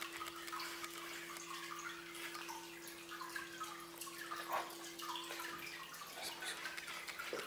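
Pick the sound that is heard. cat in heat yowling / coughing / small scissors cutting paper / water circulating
water circulating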